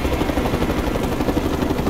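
Enemy helicopter in Mercenaries 2, a loud, steady rotor and engine roar filling the whole short stretch, close and continuous.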